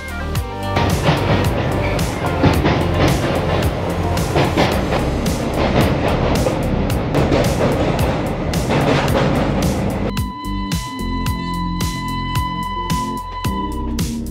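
Sealdah–Agartala Kanchanjunga Express pulling out of Sealdah station, loud continuous rumble with rhythmic wheel clatter over rail joints, near and steady throughout.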